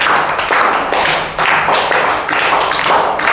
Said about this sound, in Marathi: टाळ्या वाजवा सर्वजण